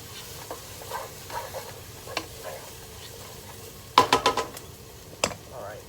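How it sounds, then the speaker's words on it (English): Food stirred in a pan with a soft sizzle underneath, a few scrapes early on, then a quick burst of sharp clatters near the end and one last knock. "now go ahead and give this a stir"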